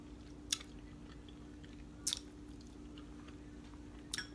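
Someone chewing a mouthful of cooked mustard and turnip greens, quiet and close, with three soft moist bites spaced about two seconds apart over a low steady hum.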